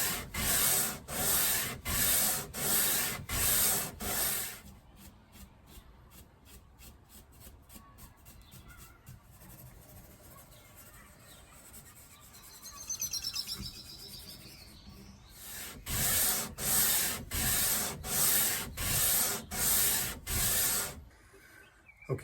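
A guitar fretboard is sanded to its radius with 120 grit sandpaper in long, even rhythmic strokes, loud and close at the start and end, with a quieter stretch of faint scraping in between.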